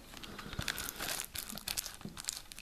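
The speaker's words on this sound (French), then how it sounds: "Je vais la déballer en même temps." Plastic film is torn and crinkled off an Interstellar soundtrack CD collector box set, a close burst of sharp rustling and tearing crackles.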